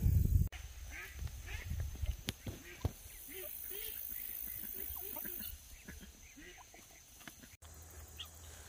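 A pet duck quacks in a garden in a series of short, repeated calls, with a person talking over and between them.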